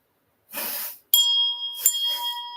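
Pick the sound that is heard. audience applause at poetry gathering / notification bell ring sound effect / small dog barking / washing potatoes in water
notification bell ring sound effect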